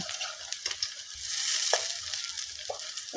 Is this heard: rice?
yes